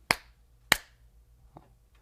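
Two sharp, close hand claps ring out about six-tenths of a second apart in a quiet room, each with a short decay, followed by a much fainter soft tap.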